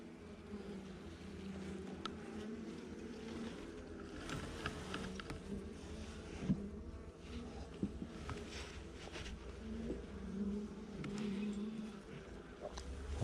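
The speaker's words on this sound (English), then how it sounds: "there's definitely more bees already" Continuous low hum of a mass of honey bees buzzing near the hive during an early-season inspection, with occasional louder passes and faint handling noises.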